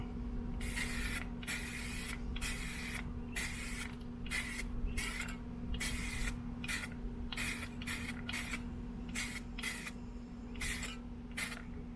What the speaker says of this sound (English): Put a light coat on as a tack coat just to get it to stick